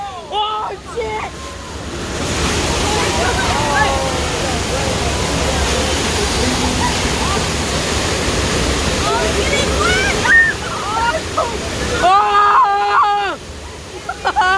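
On a studio tram tour, a simulated 8.3 earthquake effect unleashes a loud, continuous roar of rushing, crashing water for several seconds, with people screaming and shouting before it and again as it fades.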